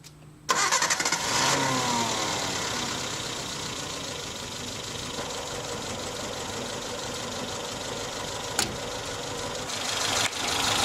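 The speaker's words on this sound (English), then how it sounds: "let's go ahead and start up the vehicle" A Suzuki Samurai engine cranks and catches about half a second in, then settles into a steady, close idle that runs to the end with a slight rise near the finish; no one speaks.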